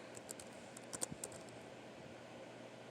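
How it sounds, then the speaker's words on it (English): Someone types one-handed on a computer keyboard, producing sparse, faint key clicks in an irregular rhythm with a few louder taps, heard alone in a quiet room. "So hard typing with one-handed"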